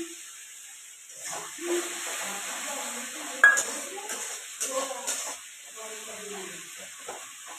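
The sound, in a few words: katla fish being sautéed in a pan with ginger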